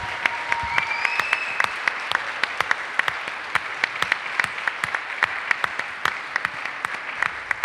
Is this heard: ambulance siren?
no